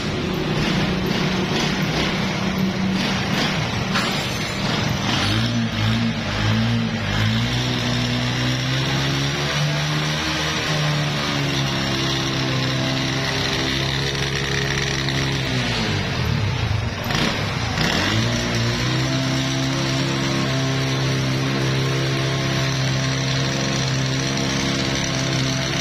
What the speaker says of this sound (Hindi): अभी हम बाइक को स्टार्ट करके चेक करते हैं।